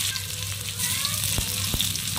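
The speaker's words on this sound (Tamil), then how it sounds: "பக்கத்தில் ஒரு கடாயில் எண்ணெய் ஊற்றி ஒரு 10 பூண்டு பல் நசுக்கி போட்டு ஒரு 2 பெரிய வெங்காயம் கட் பண்ணி போட்டாங்க." Crushed garlic cloves and two large sliced onions frying in oil in a kadai, a steady close sizzle with a few faint stirring clicks.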